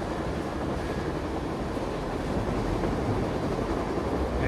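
Steady, dense rumble of a train as the player stands on its roof in the adventure game Secret Files: Tunguska, a continuous loud rolling noise with no speech over it.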